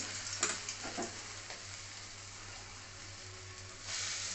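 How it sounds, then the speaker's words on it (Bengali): Small lentil bora fritters fry one by one in hot oil with a soft, even sizzle, a few light clatters of spoon near the start, and the bubbling rising slightly toward the end. "বড়াটা আমি এমনি ছোট ছোট করে এক এক করে ভেজে নেব বড়ার আন্দাজে।"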